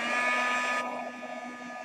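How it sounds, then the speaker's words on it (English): A heat gun blows hot air to dry freshly coloured mixed media jewellery pieces, a loud steady fan whoosh close by that drops in pitch and fades slightly as it is switched off or moved away. "I'm just going to dry those quickly with my heat gun"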